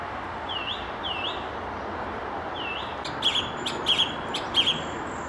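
Outdoor bird song near Farnham in spring: repeated whistled phrases and sharp chirps from a thrush, moderately near, over a soft background hush.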